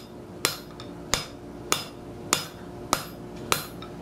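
Six evenly spaced hammer blows on hot steel being forged into a rivet bucking bar, each a sharp ringing strike with a short decay, close by and without talk.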